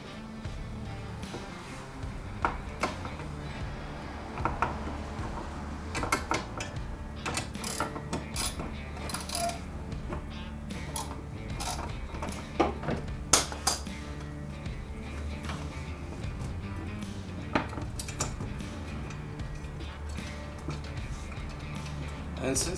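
A ratchet backs out captured bracket bolts behind a truck's wheel liner, making irregular clicking and ticking bursts over low mechanical rumble while someone talks.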